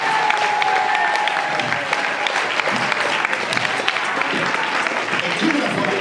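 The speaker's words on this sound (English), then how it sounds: "everybody clap your hands." Dense applause and clapping from a crowd at a hip-hop panel with live beatbox and MCs, steady and loud throughout, with voices mixed into the noise.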